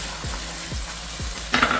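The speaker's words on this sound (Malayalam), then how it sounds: "ഗോൾഡൻ കളർ ആകുന്നത് വരെ തേങ്ങ നന്നായിട്ട് വറുത്തെടുക്കാം" Grated coconut roasting in a pan for a Kerala-style river fish curry gives a steady close sizzle, broken by three regular spatula stirring strokes and a louder scraping burst at the end.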